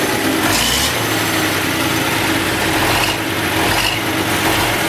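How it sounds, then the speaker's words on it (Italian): A custom OM Titano truck, a Euro 6 build, idles with a loud, steady diesel rumble up close, its pitch rising slightly in a couple of brief swells. "fammi sentire il rombo intanto"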